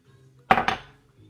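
Icing sugar being stirred in a bowl, with two quick clinks of a utensil against the bowl close by followed by a short scraping tail, all in a quiet kitchen.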